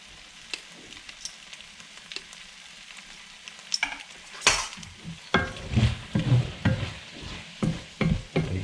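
Linguine tossed with tongs through a bubbling crab and cream sauce in a pan. A faint sizzle opens the clip, then loud wet stirring and scraping takes over in irregular bursts.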